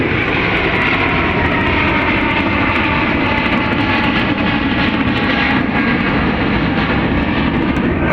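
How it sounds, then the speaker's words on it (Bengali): Airplane passing overhead, a loud, steady engine roar holding through the whole stretch with no voices. "ওই যে বিমান যাইতেছি"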